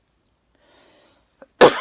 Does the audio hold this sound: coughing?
yes